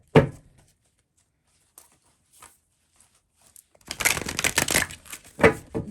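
Tarot cards are shuffled by hand, first a sharp single slap, then a few faint ticks, followed by a dense riffling rustle of cards close by with a final snap, with no talk.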